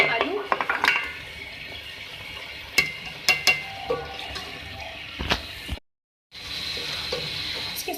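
Fried chicken and fried potatoes are mixed in a pot for a chicken aloo salan, with scattered spoon clinks and scrapes against the metal over a low simmering background, ending in a short silence and steadier noise.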